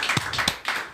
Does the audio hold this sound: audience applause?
yes